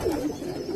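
Tippler pigeons on a New York City rooftop loft give a brief, soft, low cooing call, close and moderately quiet.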